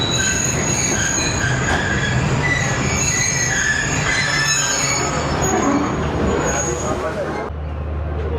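The 8DN Tezgam train at Jhelum railway station rumbles steadily with high squealing wheels and screeching metal tones throughout, loud and close, as people talk underneath.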